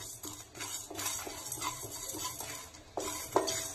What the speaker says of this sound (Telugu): మిరియాలు, ధనియాలు, జీలకర్ర మరియు ఎండుమిర్చి వీటిని రోస్ట్ చేసుకోవాలి ఫ్రెండ్స్.